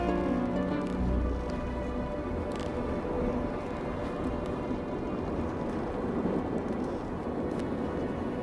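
A violent storm rages below a drifting balloon, with a steady, loud wash of rain and low rumbling thunder that swells near the start, continuous and without voices.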